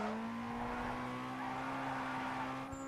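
A car in Need for Speed Underground 2 slides with its handbrake locked on, a sustained tonal tire squeal over a steady engine note, continuous and fairly faint.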